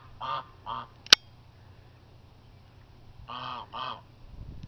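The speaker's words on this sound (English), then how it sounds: "Pretty goose. Here, goose." Four loud goose honks in two pairs, with a sharp click between them, over a low steady hum.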